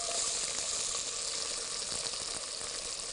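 Onions dropped into hot oil in a soup pot, a steady hissing sizzle that stays loud and even for a few seconds with no talk.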